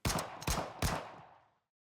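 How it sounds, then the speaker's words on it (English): Three rapid gunshots fire in quick succession in the game Goddess of Victory: Nikke, each a loud, close crack with a ringing tail that fades out after the last shot. "Then several more shots."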